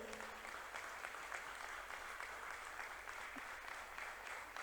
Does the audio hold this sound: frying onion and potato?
no